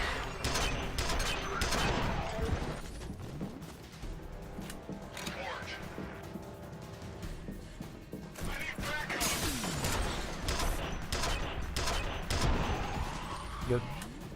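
Gunfire in the video game F.E.A.R. comes as repeated bursts of rapid shots with crashes and mechanical clatter, loud and dense, with talking over it.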